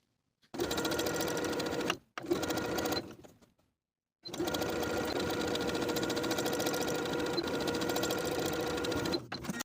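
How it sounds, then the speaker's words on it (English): A sewing machine top-stitches with a wide zigzag stretch stitch around a knit tank top or cardigan, running in steady close-up bursts of about 1.5 s, 1 s, then a long 5-second run after a brief pause. "we're going to top stitch them in place all the way around using your preferred stretch stitch. I'm going to be using a wide zigzag stitch."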